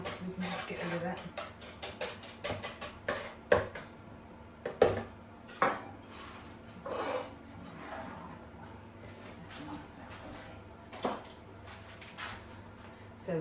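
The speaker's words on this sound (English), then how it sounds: "we can just use our whisk briefly to just get rid of any, where it forms into little lumps" A whisk clinks and taps irregularly against a bowl while breaking up lumps in chocolate brownie batter, close up and fairly quiet. A person talks over it.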